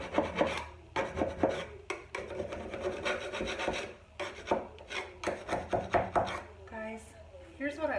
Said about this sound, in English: I'm actually gonna scrape some of the brown off.